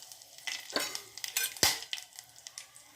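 Cumin seeds, whole spices and asafoetida fry in a pan for pulao, a light crackling sizzle broken by close scraping and clinks of a spoon stirring against the metal.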